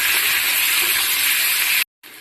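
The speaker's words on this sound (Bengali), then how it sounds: "এখন এই আলুগুলো দিয়ে দেবো এর মধ্যে, ভালো করে আরেকটু কষিয়ে নেব।" Potatoes tossed into spice paste frying in a pan for a crab curry, giving a loud, steady broadband sizzle that holds for nearly two seconds, cuts out briefly, then resumes.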